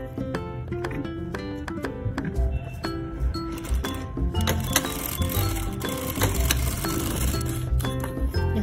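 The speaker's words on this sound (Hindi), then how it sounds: "फिर से सिलाई लगानी है हमें।" A sewing machine stitches a princess deep-neck blouse in a continuous fast mechanical whir, close and steady, with rhythmic clicking throughout.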